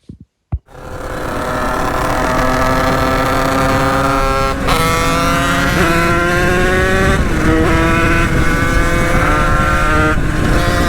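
A small 50cc two-stroke motorcycle engine, a tuned Top Alu 86 setup, starts with a couple of sputters, then runs continuously at a high buzzing idle with slight pitch shifts, loud and close.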